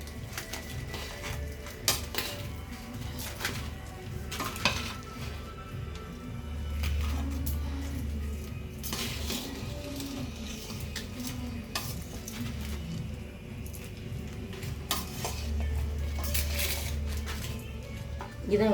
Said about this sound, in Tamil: இதை கிளறி விட்டுட்டா காரம் எல்லாமே ஒரே அளவாக இருக்கும்